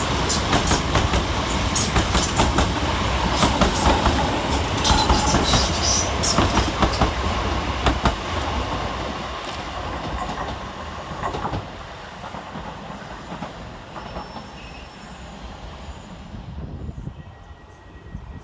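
British Rail Class 345 and Class 317 trains pass through Bethnal Green station with a loud, close rumble and clattering wheels that fade gradually toward the end.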